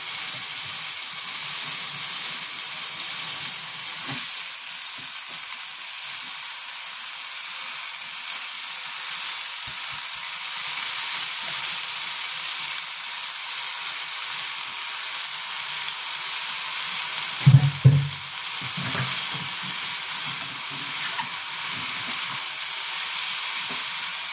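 Spinach sizzles and fries in a pan with a steady, even hiss that runs throughout, broken by one brief louder clatter of stirring partway through.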